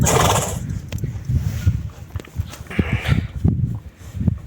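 A draft horse mare whinnies loudly near the start, followed by a scatter of hoof thuds and shuffling, with low rumbling in the background throughout.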